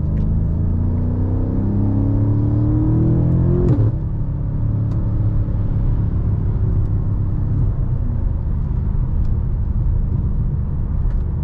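A BMW M5 Competition engine drones steadily from inside the car while driving, rising in pitch under acceleration before a gear change drops it back to a low, continuous rumble.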